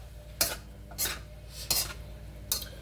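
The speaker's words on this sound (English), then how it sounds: "and mix with the veggies. I will mix together very well." Fried rice vegetables are mixed in a pan, with four clanking scrapes of a utensil against the metal at a steady pace, fairly close and moderately quiet over a low kitchen hum.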